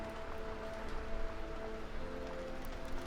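Steady rainfall in the Sherlock Holmes The Awakened video game, a continuous soft hiss of drops pattering on surfaces with a faint low rumble beneath, no voices.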